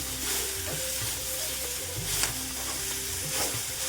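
Fenugreek leaves sautéed in a pan, a continuous close sizzle and hiss with light stirring and scraping, no talking.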